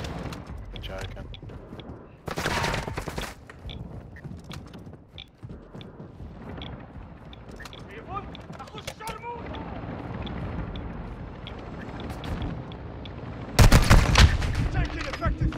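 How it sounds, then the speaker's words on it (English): Rapid bursts of gunfire in a first-person shooter video game ring out in a loud cluster early on and again near the end, with talk and quieter game noise in between. "Taking effective fire."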